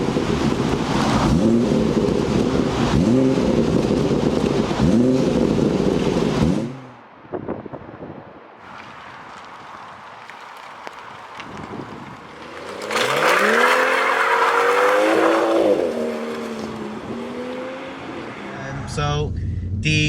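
A BMW M240i with a B58 engine drives on wet roads; its engine hums steadily from inside the cabin, drops away briefly, then surges with a rising rev as it accelerates hard.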